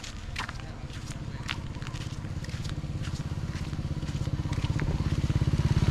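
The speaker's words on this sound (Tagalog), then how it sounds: "May motorsiklo." A motorcycle passes on a rural road, its engine a rhythmic low throb that grows steadily louder as it approaches, with faint ticking and scuffing sounds on top.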